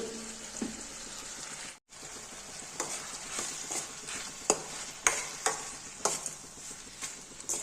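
A spoon stirs tomato curry seasoned with salt, turmeric and a pinch of fenugreek powder in a sizzling pan. Repeated scraping strokes and clicks sound over a steady, close frying hiss, with one brief dropout.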